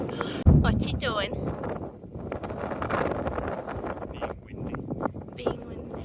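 Gusty wind buffets the microphone with rough rumbling bursts, while people talk and chatter close by.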